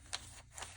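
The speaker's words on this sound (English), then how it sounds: "I am going to trim this here" Scissors trimming paper for a collage give two quick, faint snips, roughly half a second apart, in an otherwise quiet room.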